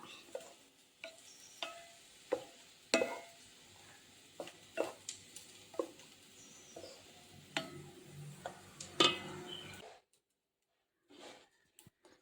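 Food being mixed in a pan, a series of distinct taps and scrapes of a spoon at an uneven rhythm over a soft background, close, ending in near silence.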